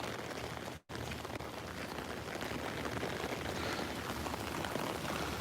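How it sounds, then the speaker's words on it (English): Steady, dense torrential rain from Tropical Storm Fay in New York City hissing continuously across the whole stretch, broadband and fairly loud, with a brief dropout near the start. "So we're currently having torrential rain here in New York City."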